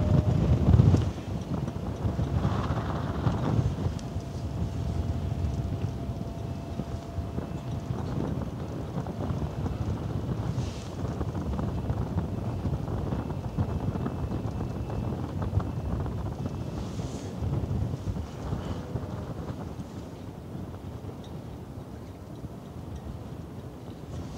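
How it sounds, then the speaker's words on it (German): Strong hot Sahara wind buffets the camera microphone outdoors at a harbour, a constant loud rumbling roar with gusty surges lasting throughout, with no talk over it. "ihr merkt auch, wie dieser Sahara-Wind wieder mal an der Kamera zuppelt"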